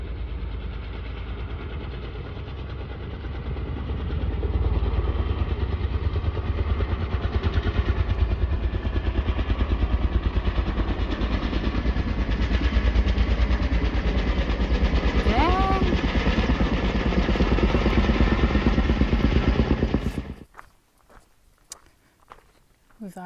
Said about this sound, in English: there have been these helicopters going back and forth all morning